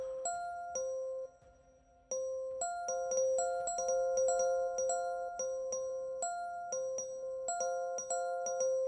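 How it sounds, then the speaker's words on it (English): Bells ring in a clear, bright, tonal sequence of repeated strikes with a short pause early on, each chime sustaining and overlapping the next, with no voices. "Can anybody else hear the ringing of bells?"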